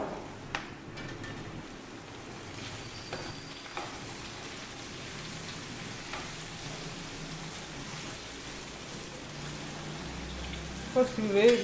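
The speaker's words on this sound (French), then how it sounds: "Donc, nous passons à la friture." Oil sizzles and crackles softly and continuously as fish fries, with a few louder pops and splutters toward the end.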